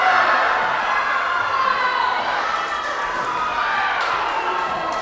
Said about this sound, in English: the pool is really getting excited for McKenna's finish. We got coaches raising their fists. We got other swimmers that are cheering.